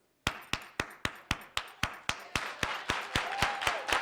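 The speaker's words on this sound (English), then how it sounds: "So the soul clap sounds like this." Quick, evenly spaced hand claps ring out alone, about fifteen sharp hits in four seconds in a steady, brisk soul-clap rhythm, close and crisp with a slight room echo.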